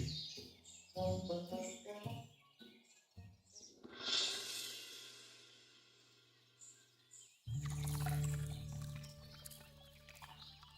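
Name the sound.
birds chirping in village countryside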